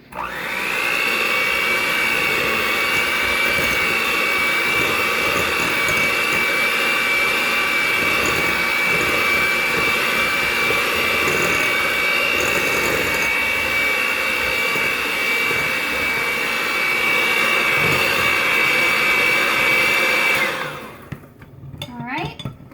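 Electric hand mixer whirring steadily in a mixing bowl as eggs are beaten into banana bread batter, a loud continuous motor drone lasting about twenty seconds before cutting off abruptly.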